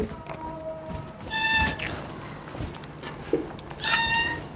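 A cat meows several times nearby, short tonal cries rising over the low bustle of a household meal, with faint clinks and background noise and no clear talk during the calls.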